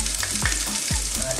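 Chopped garlic sizzling hard in hot oil in a wok, a dense close crackle with a few stirring scrapes cutting through, steady and loud with no one talking.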